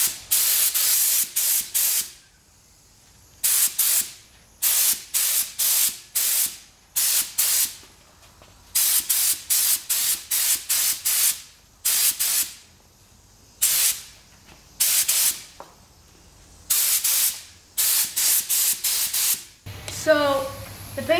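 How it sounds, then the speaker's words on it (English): Spray paint hisses onto a Honda Civic in short repeated bursts, sharp and close, separated by brief silences, with a moment of voice at the very end. "Now we can spray another coat all over this area here."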